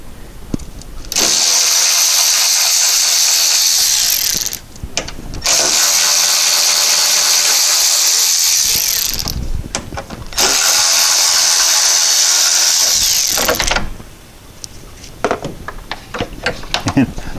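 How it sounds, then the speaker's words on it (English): Three long, loud bursts of a power ratchet or drill driver whir while fasteners come off a GMC Acadia hood latch, with short clicking pauses between them. "I'm going to try popping just the hood latch off"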